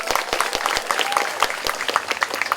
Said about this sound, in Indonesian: Tepuk tangan untuk Gede Bage.